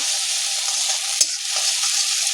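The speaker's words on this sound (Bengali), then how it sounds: "এখন আমি এর মধ্যে দিয়ে দেব বেটে রাখা পোস্ত, বাদাম আর কাঁচা লঙ্কা। মাছটাকে মিডিয়ামে দিয়ে আমি এটাকে ভালো মতো করে একটু তেলের মধ্যে কষে নেব।" Poppy seed paste, peanuts and green chilli fry in hot oil, giving a steady, close hiss of sizzling with a faint scrape of stirring partway through.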